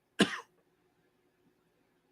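A single sharp cough close by, followed by near silence with only a faint trace of sound at the very end.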